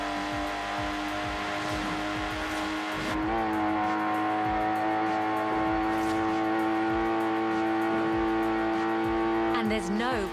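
A Lotus Exige in Forza Horizon 4 drones with a steady, high engine whine that climbs in pitch as it accelerates, with tire noise beneath and a narrator speaking over it.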